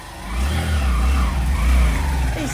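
A car engine revs as the vehicle is driven, a steady mid-low drone that swells and climbs in pitch over a couple of seconds, close and fairly loud, with no talking.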